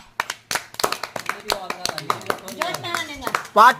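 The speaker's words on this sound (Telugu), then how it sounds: "క్లాప్స్" Irregular hand claps, some quick and close together, mixed with overlapping voices talking and calling out nearby.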